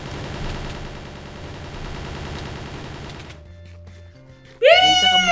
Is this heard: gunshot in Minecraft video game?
yes